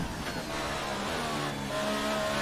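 Formula 1 car lapping Spa in a racing video game, its engine droning steadily with shifting pitch as gears change, tyre noise underneath, loud and continuous with no talking.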